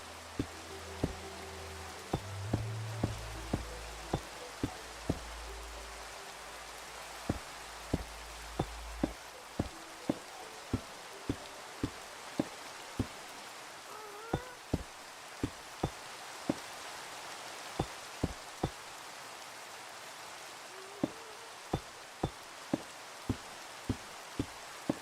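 Rain falls in the video game Minecraft, a soft, steady hiss with scattered sharp drip ticks at an uneven rhythm, gentle and calm with no voices.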